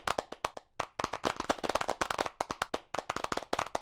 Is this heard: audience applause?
yes